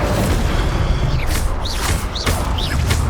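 Incendio fire spells are cast in Hogwarts Legacy, sending out several quick swooshing bursts of flame over a dense, rumbling battle din.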